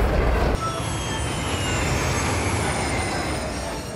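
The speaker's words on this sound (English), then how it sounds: "The next morning, Mavis brought another stone train to the junction." A freight train carrying stone rumbles steadily along the rails, a loud low-frequency roll with faint high metallic whine, no voices, continuous throughout.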